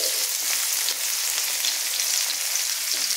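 Chopped onions fry with whole cumin seeds in hot oil for a chicken kofta curry, a constant close-up sizzle and crackle that stays even throughout with no voices.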